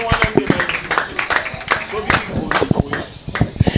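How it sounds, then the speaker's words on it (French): Applause at a birthday celebration: a crowd's irregular, close claps come in uneven bursts, mixed with voices talking over them. "Sous vos applaudissements"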